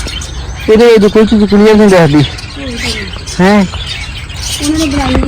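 Small birds chirp and tweet in quick bursts in a netted zoo aviary while someone talks over them, the calls close and fairly loud.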